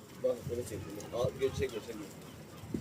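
A pigeon kept on a rooftop coos in a few soft, low, repeated notes, close by, with a faint murmur of background noise and no clear talk.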